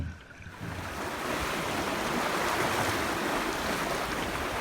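Lake Superior waves and gusting wind in the Apostle Islands, a steady loud wash of surf with wind buffeting the microphone, building slightly after a quieter first half-second and continuing unbroken.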